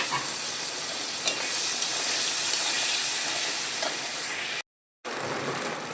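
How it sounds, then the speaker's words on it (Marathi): Tomatoes hitting a pan of lightly browned fried onions set off a steady, loud hiss and sizzle that carries on without a break, with a brief gap of silence near the end. "कांदा इथं हलकासा लाल झालेला आहे. तर मी लगेच टोमॅटो टाकते यामध्ये."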